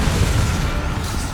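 A Crucio curse spell cast in Hogwarts Legacy lands as a brief, heavy booming burst, loud and rumbling throughout with no pause.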